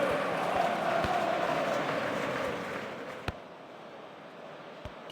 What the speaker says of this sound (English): The cheer goes up as we start the match.